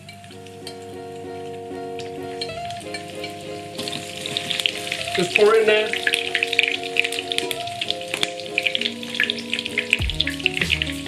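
Falafels sizzle in hot oil in a pan, a soft hiss that swells into crackling, spattering frying with scraping and stirring, while a person speaks briefly.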